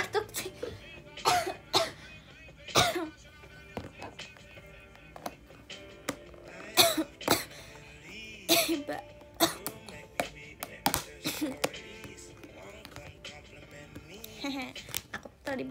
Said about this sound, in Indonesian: Iya, aku batuk sih.